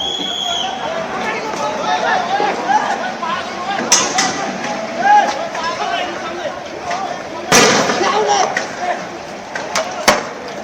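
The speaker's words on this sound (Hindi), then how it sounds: "आंसू गैस के गोले छोड़े जा रहे हैं यहाँ पर लगातार खदेड़ने के लिए प्रदर्शनकारियों को।" Tear gas shells fired at protesters in Kathmandu, heard as a few sharp distant bangs over a constant loud crowd roar and babble of voices.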